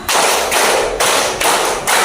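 Elementary pupils in an Indonesian classroom clap together in a counted concentration routine, loud group claps arriving as four or five sustained bursts in an even beat, with no talk.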